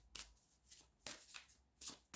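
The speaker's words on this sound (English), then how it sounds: "I'm going to shuffle them again for some reason, the past life cards" Tarot cards are shuffled by hand close to the microphone, several quiet riffling bursts separated by short pauses.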